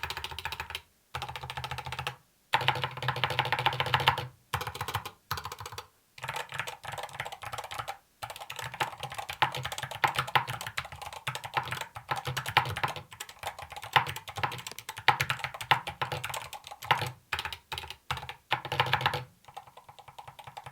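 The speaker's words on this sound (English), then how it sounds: "let's go on and compare the sound up to the new Endgame Gear keyboard that recently came out" Typing on a Lamzu Atlantis Pro keyboard and an Endgame Gear keyboard produces a run of close, quiet key clacks in quick bursts, separated by short silent pauses.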